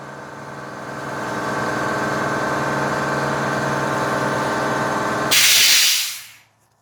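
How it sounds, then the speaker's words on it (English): An air compressor runs at a loud steady drone, then releases a hissing burst of air as it shuts off and winds down to silence. "the air compressor kicked off"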